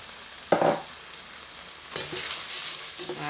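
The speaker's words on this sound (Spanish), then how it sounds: "le añadimos, así, el fideuá, se lo vamos a echar ya" Fideuá noodles are tipped into a frying pan with prawns and squid, bringing short bursts of sizzling and stirring over a low, steady frying hiss.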